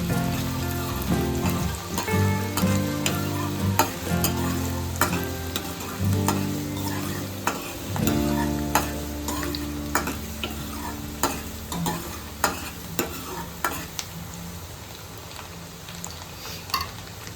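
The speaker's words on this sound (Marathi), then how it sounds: "आता इकडे तेल आपलं छान गरम झालेलं आहे, त्याच्यामध्ये हा जो बारीक चिरलेला कांदा तो आपण टाकून घेणार आहे" Finely chopped onion fries in hot oil for a Maharashtrian misal. A steady, close sizzle with crackle and regular stirring taps runs throughout, over faint tonal background sounds.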